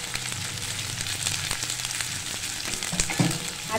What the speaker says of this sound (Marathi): कांदा आपल्याला परतून घ्यायचा आहे हा लाल होईपर्यंत